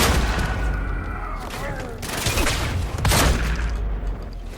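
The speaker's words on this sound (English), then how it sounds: "As time bends and shifts around Jack, the sounds of explosions and bullets distort and stretch with it." Loud bursts of gunfire and booming explosions from the video game Quantum Break, with stretched, warping sweeps of sound between blasts as time bends, in a dense, chaotic action mix.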